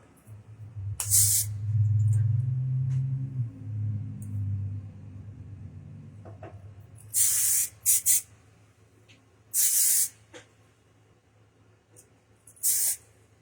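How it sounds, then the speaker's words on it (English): Hairspray hissing from an aerosol can onto hair styled in a fanned-out Farrah Fawcett look, in four or five short, loud bursts, some doubled, over a low background rumble. "I'm probably getting hairspray all over my glasses."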